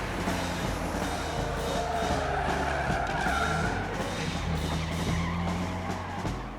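Truck tires skid through a turn in the 1977 film Smokey and the Bandit, a sustained squealing skid over engine rumble and road noise lasting several seconds, without talk.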